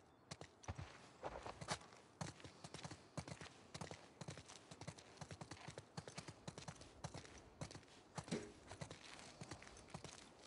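Steady clip-clop of horse hooves walking on a hard surface, an even rhythmic patter that continues throughout at moderate distance with no talking.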